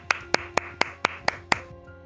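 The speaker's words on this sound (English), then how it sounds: "That was good clapping." Seven sharp, evenly spaced hand claps sound close and clear at a steady rhythm, then stop, leaving a short quiet tail.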